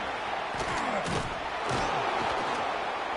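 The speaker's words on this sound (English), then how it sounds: "Listen to this crowd just shaking the girders of this place trying to help their defense." Stadium crowd in a college football video game, Florida State against Virginia Tech, roars loudly and steadily throughout with thumping swells, a dense, close wash of noise with no clear talk over it.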